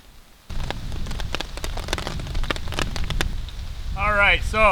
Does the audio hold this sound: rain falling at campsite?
yes